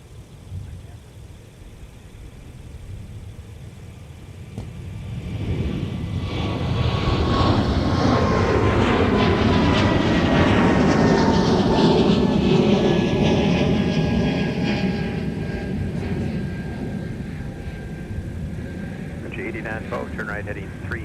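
Jet airliners depart one after another at Minneapolis–Saint Paul airport, a loud engine roar building over several seconds, peaking and slowly fading with a falling whine, while air traffic radio chatter plays faintly beneath.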